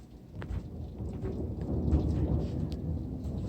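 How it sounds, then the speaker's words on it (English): A hail storm with thunder and rain strikes a house's back deck: a continuous rushing roar with a low rumble, scattered sharp ticks of hailstones on top, steady and fairly loud, with no talking. "and right here, all hail on the deck."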